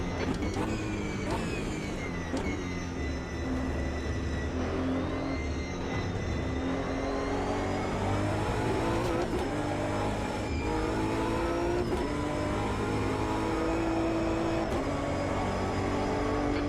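Race car engines in the Automobilista 2 sim racing game drone and whine continuously, pitch rising and falling through gear changes, loud and steady throughout with no pauses.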